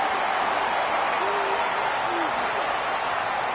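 Stadium crowd noise from a college football video game, a dense, continuous roar of cheering fans with a couple of faint hoots rising through it, steady and fairly loud.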